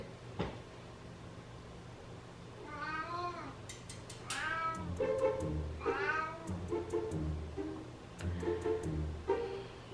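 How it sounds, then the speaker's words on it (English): An orange house cat meows repeatedly indoors, several drawn-out, wavering calls at close range, with light knocking and handling noises in between. "I heard him meowing"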